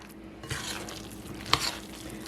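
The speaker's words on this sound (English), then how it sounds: "And mix this all up." Cornbread batter mixed with white cheddar cheese being stirred in a bowl, soft close swishing and scraping with a couple of sharp clicks of the utensil against the side, fairly quiet, with no talk.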